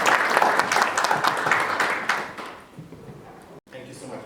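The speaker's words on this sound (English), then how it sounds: "a round of applause for Paul, please" Audience at a political summit applauding a speaker, a burst of clapping that fades away after a couple of seconds, followed by a quieter stretch.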